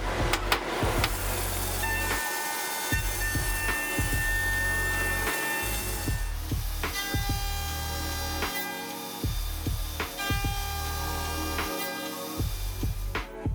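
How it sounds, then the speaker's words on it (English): A CNC mill cuts solid aluminum blocks into the body, base and fence of a drill guide. It gives a steady whine of machine tones with sharp, repeated ticks and bursts from the cutting throughout. "The body, base, and fence are milled out of solid blocks of aluminum at a CNC mill."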